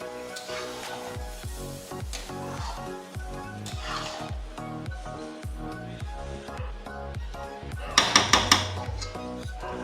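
Chicken tehari is stirred in a metal pot, producing rhythmic clinks and scrapes of a utensil against the pot, ending in a brighter cluster of sharp metallic taps near the end, with a tonal background running underneath.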